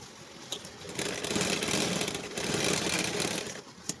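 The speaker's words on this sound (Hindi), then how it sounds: "अब यहाँ से हम सिलाई लगा देंगे" A sewing machine stitches a pant seam in steady bursts, its motor whirring close by from about one second to three and a half seconds, with brief handling clicks before and after.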